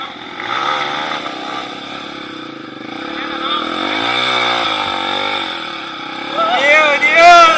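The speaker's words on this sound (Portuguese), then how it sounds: "Desce a moto. Acelera ela não." A motorcycle engine on a rough trail near São Lourenço waterfalls, revving and rising unevenly as the bike works its way downhill, with people talking close by throughout.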